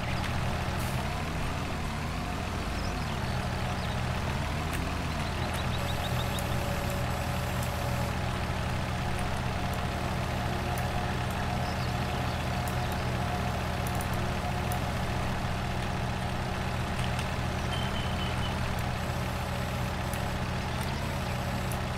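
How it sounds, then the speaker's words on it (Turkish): A farm machine runs after being switched on near hay bales, giving a steady engine drone with a low mechanical hum and faint intermittent clatter, and no talk. "Tamam, makineyi açalım. Şöyle başlasın çalışmaya."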